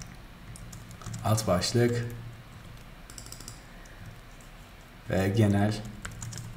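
Computer keyboard typing comes in two short clusters of close keystrokes. Someone speaks at the same time, partly over the clicks.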